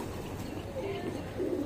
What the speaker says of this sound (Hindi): तो इस तरीके से बहुत सारे कबूतर आते हैं इधर छत पे